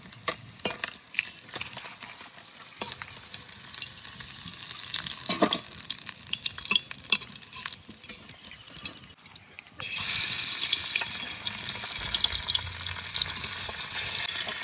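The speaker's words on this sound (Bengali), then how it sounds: "মাছ ভাজা হয়ে গেছে, এবার তুলে নেবো।" River tangra fish fry in hot oil with a crackling sizzle and occasional stirring scrapes, and the sizzle grows louder and steadier toward the end.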